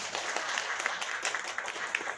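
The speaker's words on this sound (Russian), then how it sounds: "И эти аплодисменты вам." Fairly quiet applause from a club audience in Brest, Belarus, a steady crackle of many hands clapping together with no voices over it.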